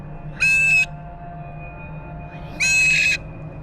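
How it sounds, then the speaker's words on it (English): A pet bird gives two loud, harsh screeching calls, each about half a second long and spaced roughly two seconds apart, over a steady low background hum. "She came home that day saying, Tariq, the bird is acting sketched out, weird."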